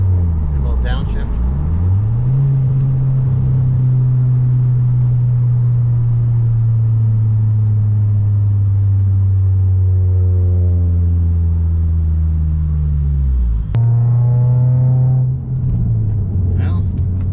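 A Dodge Dart GT with an MPX exhaust heard from inside the car with windows up: a loud, bassy engine drone that rises and falls through gear changes, with a quick rev and downshift near the end.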